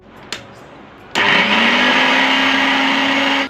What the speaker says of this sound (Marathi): झाला ना मिक्सर चालू.